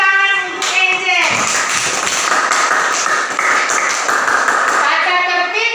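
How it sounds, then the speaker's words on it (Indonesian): A classroom of students clapping for a classmate named Angel, a brief spoken cue followed by sustained, dense group applause that carries loudly through the rest of the moment. "Iya, tepuk tangan untuk Angel."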